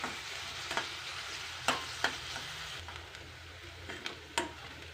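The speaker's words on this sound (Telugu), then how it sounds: "గోల్డెన్ కలర్ వచ్చే వరకు ఉల్లిపాయ ముక్కల్ని వేపుకోవాలండి" Soft, continuous sizzle of onions frying in a pan, broken by a few sharp scrapes and taps of a spoon stirring, with no talking.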